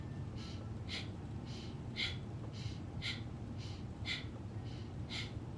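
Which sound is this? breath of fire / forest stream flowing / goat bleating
breath of fire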